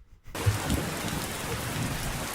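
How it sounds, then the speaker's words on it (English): Steady, fairly loud rain pours down in a scene from the 2022 horror film Goodnight Mommy, a dense continuous hiss after a brief silent start, with no talking. "Some gentle rain on top of a coat."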